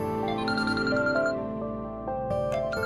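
A mobile phone ringtone plays a repeating melodic tune, loud and close, running through the whole moment with no voices over it, in an indoor domestic drama scene.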